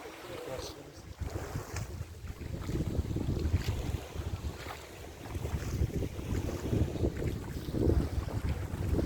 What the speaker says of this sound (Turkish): Rüzgarın sesi, suyun sesi,